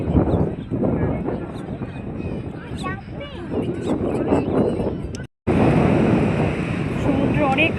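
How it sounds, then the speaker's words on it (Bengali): Sea waves and gusting wind roar steadily along crowded Bakkhali beach in West Bengal, a continuous broad wash with wind buffeting the microphone while people talk nearby. "সমুদ্র অনেক কাছে চলে আসছে"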